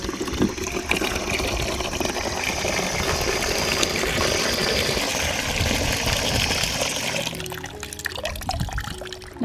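Water gushes steadily from an outdoor tap unused all year as it runs to fill a container, a loud continuous rush that cuts off near the end.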